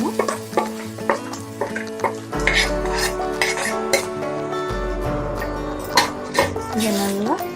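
A spoon scrapes and clinks against a pan while Tamil-style mint thuvaiyal is stirred, with a low frying hiss underneath and a few sharp knocks; a voice talks over the cooking throughout.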